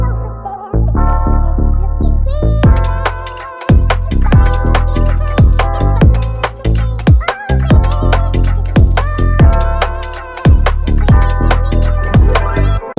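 Loud grime beat, a melodic bright sample riding over hard kicks, snares and hi-hats, looping steadily with short breaks before the drums re-enter, with no voices.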